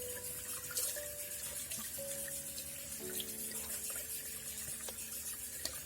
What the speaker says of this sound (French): Il faut bien la rincer abondamment.